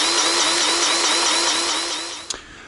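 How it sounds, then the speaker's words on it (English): Electric grease gun packing grease into the wheel bearings of a utility semi trailer, heard as a loud, close, steady motorized whir with a rapid pulsing rhythm that winds down, followed by a brief click. "we just thank ourselves that we have an electric grease gun"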